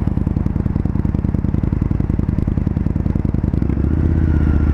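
A 2019 Indian FTR 1200S motorcycle's exhaust while riding: a loud, close, steady throbbing rumble with rapid firing pulses that deepens and smooths toward the end.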